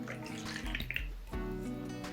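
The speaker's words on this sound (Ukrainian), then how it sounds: "Тепер беру миску, вливаю до неї воду, молоко" Water and milk are poured into a mixing bowl for pumpkin bread dough, a soft, quiet splash and trickle lasting a couple of seconds over a steady background hum.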